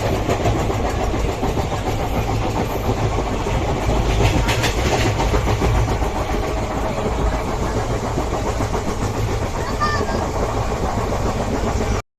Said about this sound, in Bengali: এখানে মাত্র 2 মিনিটের জন্য দাঁড়িয়ে আমাদের ট্রেন রওনা দিল দীঘার উদ্দেশ্যে